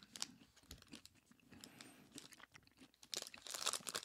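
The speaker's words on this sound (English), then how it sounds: "The hazelnuts give it a little bit of a sweet crunch." Crunching bites of a hazelnut nougat protein bar, close and crisp, with a run of sharp crackles and chewing sounds, louder bursts near the end and no talk.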